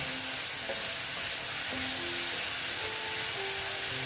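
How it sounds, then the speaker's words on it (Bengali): Potatoes and spices sauté together in a pan for a Bengali tangra fish jhal, a loud, steady sizzle and fry hiss running throughout with occasional stirring scrapes and no talking. "আলু আর মশলা একসঙ্গে কষিয়ে নিচ্ছি"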